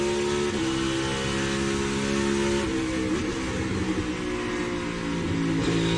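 A NASCAR Cup stock car engine on a qualifying lap drones loudly and continuously with steady throttle and pitch dips at downshifts, heard from trackside.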